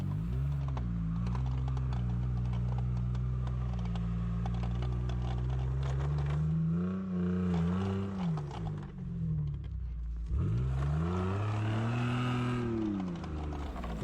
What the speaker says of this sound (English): With rear locker and little bit of momentum, Pajero easily climbs out of a ditch